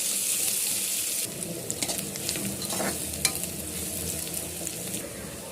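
Chopped onions with curry leaves sizzling in a hot pan while being stirred for a simple chicken thokku, a continuous crackling fry with occasional scraping clatters, close and fairly loud, no talk.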